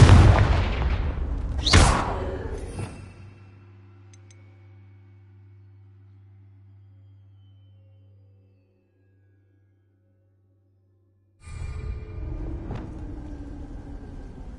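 A fire blast spell bursts loudly in Hogwarts Legacy with a booming explosive crack and rumble that fades into a low sustained hum, then a second noisy burst of game sound returns near the end.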